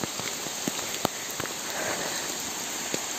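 Light drizzle on the Cemorokandang trail up Mount Lawu in the rainy season: a steady hiss of fine rain with scattered sharp drop taps close by, no talking.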